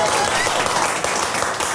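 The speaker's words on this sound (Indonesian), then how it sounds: "Kita kasih tepuk tangan dulu dong buat program ini." Studio audience applause on an Indonesian comedy talk show, a dense steady wash of clapping filling the short clip at even loudness with no clear gaps.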